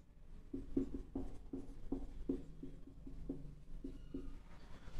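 A pen writing an amount on a cheque, close and quiet, with short rhythmic scratching strokes repeating steadily throughout.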